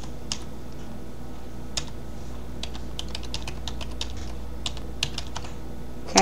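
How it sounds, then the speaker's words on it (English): Typing on a computer keyboard: irregular bursts of crisp, close key clicks, some quick runs and some isolated taps, heard alone over a faint steady background hum. "so I'm actually going to type it."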